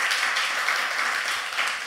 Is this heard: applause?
yes